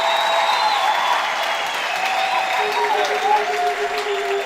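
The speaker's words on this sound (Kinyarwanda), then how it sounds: "Komera Imana amashyi" A crowd at a gospel performance claps in praise of God, with loud, sustained applause spread across the whole stretch and a voice carrying over it.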